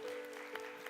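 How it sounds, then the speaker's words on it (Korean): A congregation at a church youth service claps in a brief, fairly faint burst of applause, with no speech heard. "박수하겠습니다."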